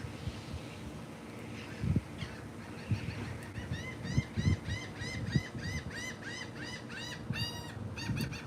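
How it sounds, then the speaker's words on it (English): Birds call outdoors beside a pool, starting with scattered sounds and then breaking into a rapid run of loud, repeated honking calls that continues to the end, with no voices. "Did you hear the birds?"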